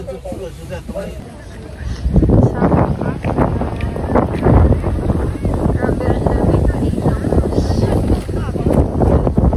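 Wind blusters against the microphone in heavy, uneven gusts at Osaka Castle, Japan, in February, while a person talks over it.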